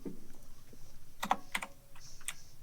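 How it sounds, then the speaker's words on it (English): A clicky gaming keyboard is typed on in a few quick bursts of sharp, close key clicks, with a short pause between groups. "I got a real clicky keyboard because I'm a true gamer"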